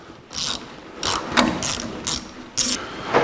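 Tools work on the upper hose of a 1982 Jeep CJ7 engine. Close, rhythmic ratcheting clicks come in several short bursts, with brief pauses between them.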